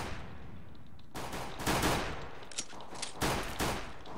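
Bursts of rapid gunfire crackle over a noisy background, several volleys in a few seconds, loud and harsh like video game shooting.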